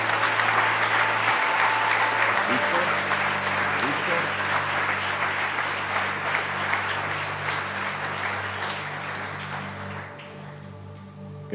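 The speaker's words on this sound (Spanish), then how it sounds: "Dele un gran aplauso a nuestro Rey," Congregation applause at a Sunday church service, a steady wash of many hands clapping over a low sustained organ or keyboard tone, gradually fading toward the end.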